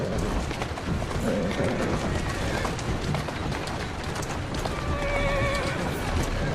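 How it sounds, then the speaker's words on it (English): A horse in Assassin's Creed Syndicate whinnies with rising, wavering cries while pulling a carriage, over steady clip-clopping hooves and constant background noise. "Who's a good horse?"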